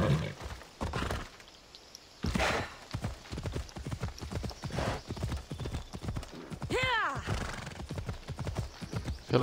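A horse in the Assassin's Creed Odyssey video game trots with rhythmic hoof clip-clops and lets out a clear neigh, while someone talks over much of it.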